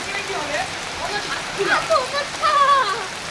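Heavy rain pours steadily in a thunderstorm, a dense even hiss close by, with a voice speaking over it throughout.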